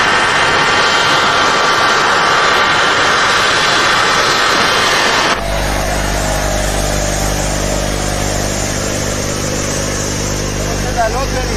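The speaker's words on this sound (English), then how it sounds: "the first plane landed in Tel Aviv." A passenger airplane lands in Tel Aviv during the May 1991 airlift of Ethiopian Jews, with a loud, steady engine roar that shifts into a deeper, rumbling drone partway through.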